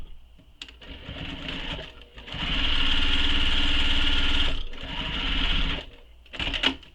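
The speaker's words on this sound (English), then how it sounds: "Now I'm going to top stitch this" A sewing machine top stitches fabric for a mini messenger bag, running in a few short stop-start bursts around one long steady whirring run of the needle, close and clear with no talking.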